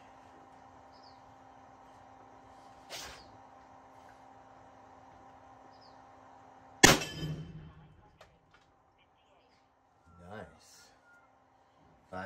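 An AEA Zeus .58 caliber air rifle firing a 407 grain hollow point slug gives one sharp, loud crack midway with a brief decaying tail, over a low steady hum with a few faint knocks before and after.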